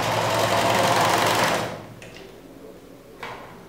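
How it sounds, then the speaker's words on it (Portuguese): A sewing machine stitches a flared skirt fabric, running steadily and loudly for about a second and a half, then stopping, followed by two brief clicks of handling. "agora já está o nosso coisa, está adiantado, vamos costurar"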